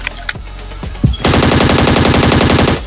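Gunfire in the video game Scarfall 2.0 on the Mumbai map: a few scattered single shots give way to a loud, sustained rapid-fire machine-gun burst lasting over a second, close and dominant.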